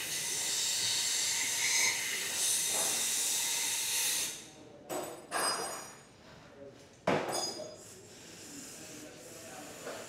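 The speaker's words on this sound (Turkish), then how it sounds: "Filtrenin girdiği kısımdaki yağı da komple havayla temizliyor." Compressed air blasts oil out of the filter housing of a Sharmax RST422 Ultra motorcycle engine during its first service: a steady loud hiss, then several short, sharp bursts.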